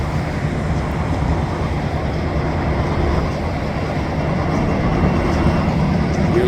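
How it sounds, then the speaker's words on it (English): A steady low EMD diesel locomotive engine drone, constant and fairly loud, with a broad rumbling texture and no speech. "I can hear the EMD motor from that one."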